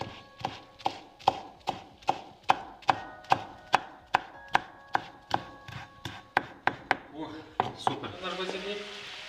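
A knife slices through rolled-up basil leaves on a cutting board in a steady series of about twenty crisp, evenly spaced chops close by, then a rustle of leaves being gathered at the end.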